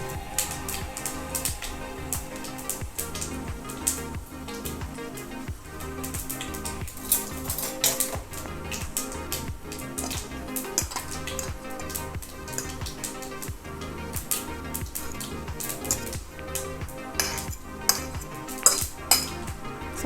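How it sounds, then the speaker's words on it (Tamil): Fennel seeds are tempered in hot olive oil in a pan, giving steady close crackling and popping clicks mixed with metal utensil clatter and stirring throughout. "சோம்பு போட்டு தாளிக்கிறேன்"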